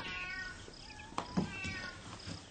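A cat gives a few soft meows, faint and somewhat distant, with no voices.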